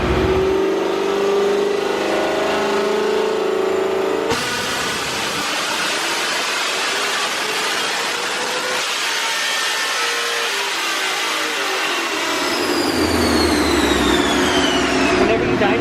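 A supercharged Pontiac Trans Am engine revs hard on a dyno, its roar climbing in pitch through a long pull, then easing off with a rising supercharger whine as people talk nearby.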